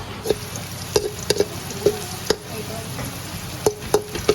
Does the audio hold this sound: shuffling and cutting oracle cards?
no